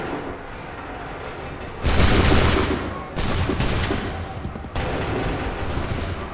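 Musket volleys fire on command in Assassin's Creed 3, with several sharp, loud cracking bursts that fade into rumbling echoes, set apart by short pauses.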